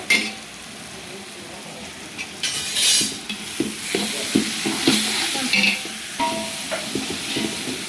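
Ten tomatoes frying in a pan for a potato palya dish, giving a steady hissing sizzle broken by scraping stirs and clinks of a utensil against the pan, close and clear.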